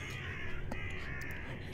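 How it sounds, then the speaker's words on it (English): Crows cawing in the horror game Deeper Sleep, a few harsh calls over a low ambient drone, fairly faint and alone without talk. "Damn crows, get off my lawn!"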